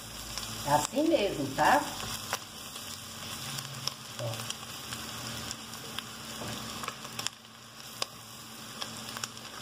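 Garlic fries in a pan with a soft, steady sizzle under a faint electrical hum, while a person speaks briefly near the start over a few stirring clinks.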